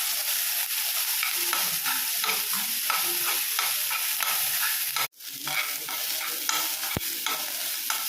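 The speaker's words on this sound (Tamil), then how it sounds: "வெங்காயம் இந்த அளவுக்கு நல்லா வதங்கி வரணும்." Onions sauté in a hot pan with a dense, constant sizzle and busy scraping from stirring, briefly cutting out midway and then resuming, without any speech.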